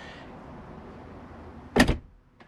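A Tesla Model S door swings shut in the wind with a single solid thud, preceded by quiet outdoor ambience and followed by a faint small click.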